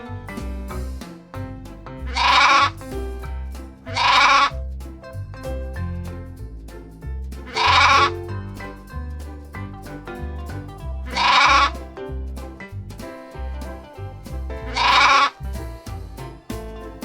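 Sheep bleating in five distinct, loud calls spaced a few seconds apart, each a wavering, voiced cry standing out over continuous background music.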